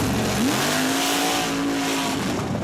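A pro-stock mud truck launches off the line at an outlaw mud racing event, its engine roaring loud and steady as it revs up and pulls away, with no voices over it.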